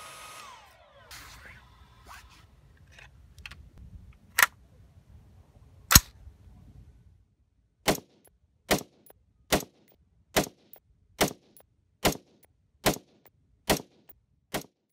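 Rifle shots from a Geissele 18-inch SPR cut-rifled barrel AR-15 firing Federal Gold Medal 77 grain Sierra MatchKing rounds. After a few scattered clicks and two sharp reports, a steady string of about nine evenly spaced loud cracks follows, each standing alone.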